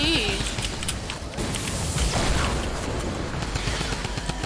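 Rapid, dense gunfire from the Typewriter gun in Fortnite Save the World, a continuous loud burst of shots with booming impacts throughout. A voice is partly heard under the firing.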